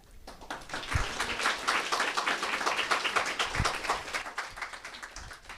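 Audience applause for panelists at a forum on youth mental health, a full round of clapping that swells quickly, holds steady, and slowly tapers off.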